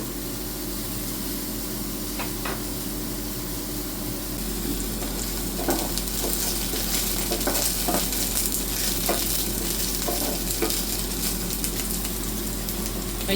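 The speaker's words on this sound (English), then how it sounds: "stir fry these green beans for a couple of minutes" Green beans stir-fry in a pan with a constant hissing sizzle, and a utensil scrapes and taps through the pan at irregular moments, all at a moderate level.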